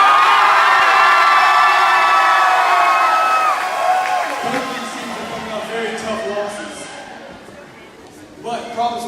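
A rowdy high school student section at a Providence Christian home football game against Highland Home cheers and shouts loudly, the roar slowly fading, with scattered whoops rising again at the close.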